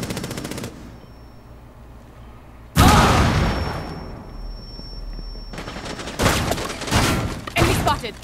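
A flashbang grenade detonates in a shooter video game, a loud burst followed by rapid gunfire volleys and further bursts of shots toward the end.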